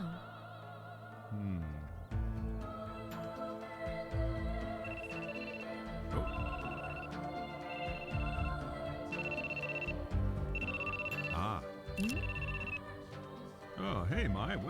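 A phone rings repeatedly in .hack//OUTBREAK, a steady pattern of short electronic ring bursts sounding over game music, with someone talking and reacting between rings.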